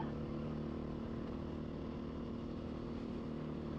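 A Beta RR430 enduro motorcycle being ridden, its engine giving a steady, rough, continuous drone with no clear revving peaks and no talking.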